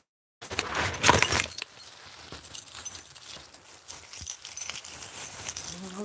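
A bunch of keys jangles and clinks close by, loudest in a sharp burst near the start, then continuing as softer metallic rattling through the rest.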